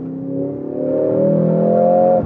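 Mercedes-AMG GLC 63 S with its 2.0T hybrid four-cylinder engine, heard in a steady rising drone with engine tones climbing over about two seconds before dropping sharply at the end, close and loud with no talk.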